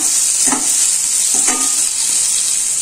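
Tomato and onion sauté in a pan for pepper chicken gravy, a loud, steady sizzle that runs throughout, broken by two brief scraping stirs.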